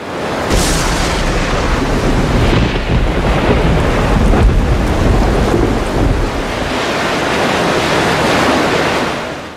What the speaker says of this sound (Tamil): ஆர்ப்பரிக்கிற கடலுக்கு நடுவுல மின்னல் வெட்டி இடி இறங்குற காட்சியை சைனாவில் சில பேர் இங்க எப்படி ரெக்கார்ட் பண்ணி